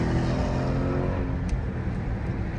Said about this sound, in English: We got two loud cars. Well, we got four loud cars now.